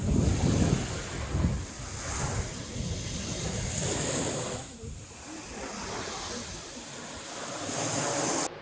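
Waves washing onto a long beach, a broad continuous rush of surf with wind buffeting the microphone, steady and fairly close.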